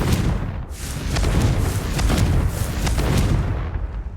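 A Confringo blasting spell explodes in Hogwarts Legacy, giving a series of heavy, rumbling booms and bursts that run loud and dense over the whole stretch, with no voice on top.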